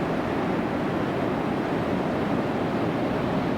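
Ocean surf on the shore at Ruby Beach, a steady broad wash of waves with wind over the microphone, continuous and fairly loud with no voices.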